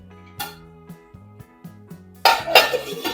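A lid is placed on a pot of peas curry, giving a couple of sharp metallic clanks and light rattles with a clatter near the end, close and with no talk.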